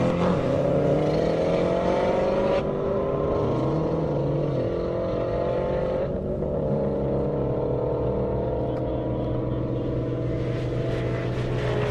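BMW M5 Competition and Subaru WRX STI at a half-mile airport drag race, engines roaring loudly with rising revs and gear changes heard as stepped pitch shifts, a continuous powerful acceleration with no talking.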